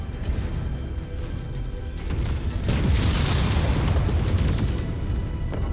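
A missile explosion in the MechWarrior 5 mech combat game, a heavy booming blast that swells into a loud sustained rumble over continuous battle noise.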